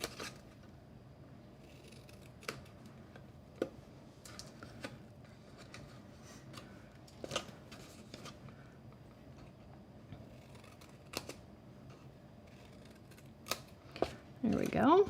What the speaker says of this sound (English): and I'm gonna miter cut those tabs.